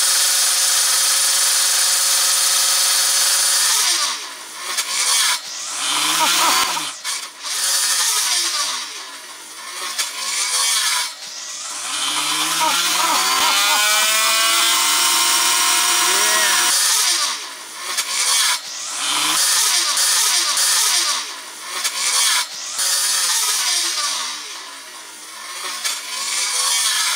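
A loud homemade power tool fitted with a Diablo blade saws through maple wood in a long, continuous, high-pitched whine, its pitch dipping and recovering repeatedly as the blade bites and clears the cut.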